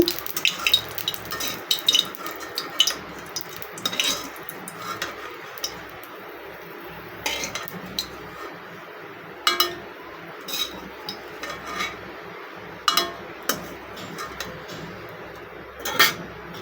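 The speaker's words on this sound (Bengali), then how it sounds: "শুকনা মরিচগুলো তুলে রাখতেছি।" Fried dried chillies being lifted out of a pan, with scattered clicks and scrapes of a spoon against metal and a faint sizzle underneath.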